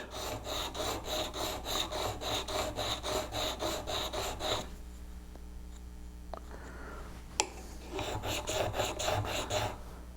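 A V-parting woodcarving tool is sharpened with steady, rhythmic back-and-forth rubbing strokes, close and even. The strokes pause for several seconds with a sharp click in the gap, then start again.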